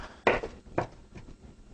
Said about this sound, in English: I'm just rough chopping that shrimp up.